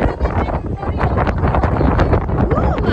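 Steady wind buffeting the microphone, a constant broadband rumble with faint voices and outdoor noise mixed underneath.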